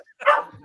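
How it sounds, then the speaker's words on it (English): A single short dog bark, close and fairly loud, rising sharply and fading in under half a second, heard alone without speech. "Sorry for my dog barking."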